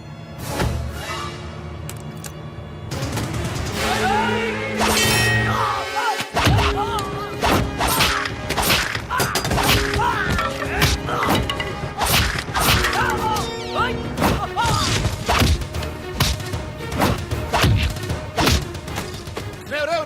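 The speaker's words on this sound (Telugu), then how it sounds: "ముందా మాధరావు కూర్చున్నటువంటి కారు అద్దాలు పగలగొట్టి" Car windows being smashed in a Telugu movie fight scene: a dense run of loud, repeated crashing thuds and whacks over about twenty seconds, glass-breaking impacts layered with a driving background score.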